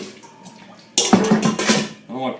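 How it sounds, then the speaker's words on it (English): Water poured into the bottom of a pan while preparing Southern-style salmon patties, a splashing, bright rush that starts abruptly and runs for over a second, with a short second splash after a brief pause. "So I put some water in the bottom of that pan."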